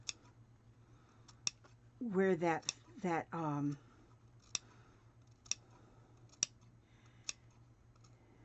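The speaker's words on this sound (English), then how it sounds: "these scissors are sharp enough that they'll do" Sharp scissors snip through fabric at irregular intervals, close and crisp, with a brief bit of speech in the middle.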